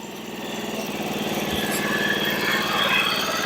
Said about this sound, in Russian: двигатель как на бензопиле